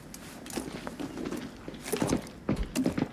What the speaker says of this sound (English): you hear so many footsteps